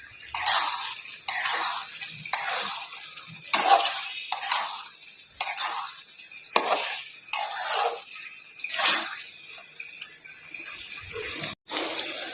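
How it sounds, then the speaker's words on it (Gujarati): Potatoes being stirred in a frying pan for a spicy Gujarati garlic potato dish, a continuous close sizzle broken by repeated scraping strokes of the spoon at a steady rhythm, with no voices. "તો હવે આને આપણે કરી લઈએ મિક્સ."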